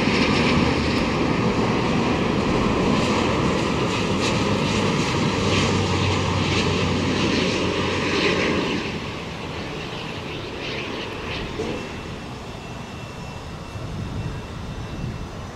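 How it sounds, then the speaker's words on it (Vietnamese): An Airbus A350-900 landing on runway 25R at Tan Son Nhat airport produces a loud, steady jet engine roar that drops to a quieter rumble partway through as it rolls out, heard from a distance without speech. "Còn bây giờ chiếc máy bay hạ cánh xuống đường băng 25 phải"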